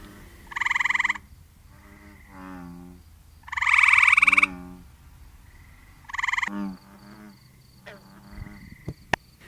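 Tree frogs call at a pond in a series of loud, buzzy trilled bursts separated by pauses, with softer croaks between them and a faint insect-like tone in the background.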